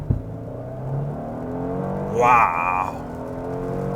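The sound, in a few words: Genesis G80 Sport launch control full-throttle acceleration in rain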